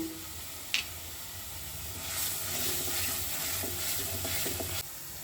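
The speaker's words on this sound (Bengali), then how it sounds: "এবার এই সময় আমি এই জিরে ধনে যে মশলাটা আছে এটা দিয়ে দেবো। এটা দিয়ে খুব ভালো করে একটু কষাতে হবে কিন্তু।" A cumin-coriander spice mix sautés in oil in a pan, giving a soft, steady sizzle with light stirring scrapes and a brief clink near the start, fairly faint and close.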